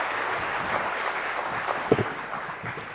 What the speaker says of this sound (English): She deserves a bigger round of applause and welcome